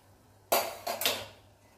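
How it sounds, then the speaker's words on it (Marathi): A pressure cooker lid comes off after cooking lapsi, giving a sharp metallic clank followed by two quick knocks of metal on metal, close and clear against a quiet kitchen. "आता झाकण काढून घेऊया."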